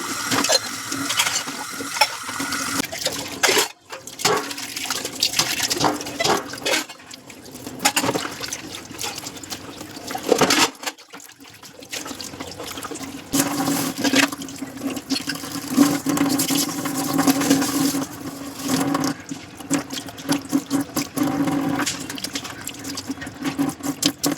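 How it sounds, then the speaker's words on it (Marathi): Dishes being washed and scrubbed by hand under running water at a home kitchen sink, with steady splashing and clinking of utensils that continues with short pauses throughout. "आता हे पटापट भांडी आवरून घेते म्हणजेच घासून घेते"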